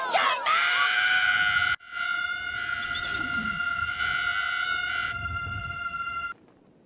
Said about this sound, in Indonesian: Saking dahsyatnya teriakan itu membuat sebuah gelas retak.